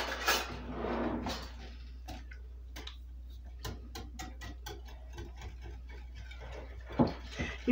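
Batter for homemade holiday bread gets mixed by hand in a bowl, giving a string of soft irregular clicks and taps of a utensil against the bowl, close and fairly quiet, with a brief burst of noise at the start.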